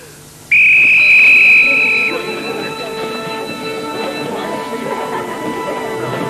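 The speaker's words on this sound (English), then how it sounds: "When I blow the whistle, you go." A single loud, sustained whistle blast starts a children's race at a witch school, lasting about a second and a half before cutting off, with a faint murmur of voices and background noise continuing afterward.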